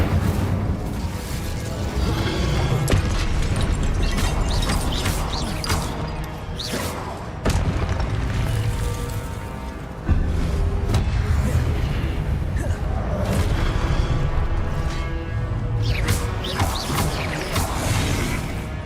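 Incendio fire spells cast in the video game Hogwarts Legacy produce a dense, continuous wash of whooshing fire, thuds and booming blasts, with a voice talking over the clamour.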